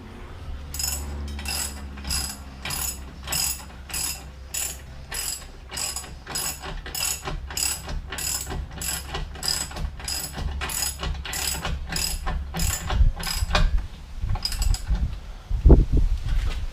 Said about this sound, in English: I'm going to just do the ratchet right now